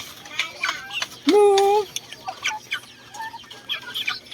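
Three hens cluck in short bursts close by, and one louder, drawn-out rooster call rises in the middle against a quiet outdoor background.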